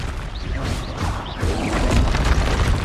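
Confringo blasting spell bursting in Hogwarts Legacy, a dense crackling boom that swells toward the end amid continuous combat noise.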